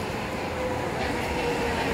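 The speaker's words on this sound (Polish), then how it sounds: "Stacja kolejowa." A train rumbles in a railway station, a steady, loud low drone with muffled background sound.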